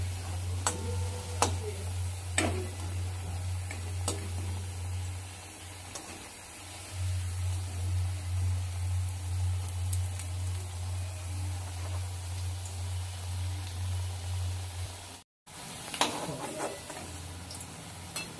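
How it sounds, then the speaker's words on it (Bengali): Drumstick flower fritters are shallow-frying in hot oil with a steady, hissing sizzle and scattered small ticks and pops. A low hum runs underneath, and there is a brief break near the end. No one speaks. "উল্টো পাল্টে ভালো করে লাল লাল করে বড়াগুলো ভেজে নিচ্ছি।"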